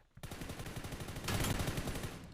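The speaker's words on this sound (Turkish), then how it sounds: "Başka yerden gelip adamlar beni vuruyor ya." Rapid automatic gunfire in the mobile shooter PUBG: New State, a steady stream of close shots that grows louder and denser halfway through, with no talk.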